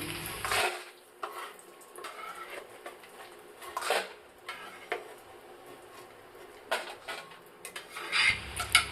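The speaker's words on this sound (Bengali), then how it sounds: "বড়িগুলো যখন লাল লাল হয়ে গেল তখন আস্তে আস্তে বড়িগুলোকে একটা পাত্রের মধ্যে তুলে নিলাম" Fried lentil dumplings (bori) are lifted from a wok of hot oil into a bowl, with soft clinks and scrapes of metal on metal coming in scattered bursts over a faint background sizzle.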